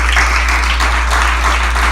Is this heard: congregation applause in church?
yes